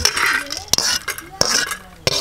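Cardamom pods dry-roasting in a pan, with a rattling, clinking stir and three sharp metallic knocks of a utensil against the pan, near and fairly loud.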